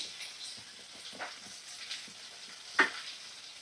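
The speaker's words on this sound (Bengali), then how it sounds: "আমি আলু দিয়ে দিচ্ছি আর সাথে পেঁয়াজ দিয়ে দিচ্ছি।" Potatoes and a medium onion frying in a pan, a faint steady sizzle with scattered stirring scrapes and one sharper clank near the end, heard close and alone.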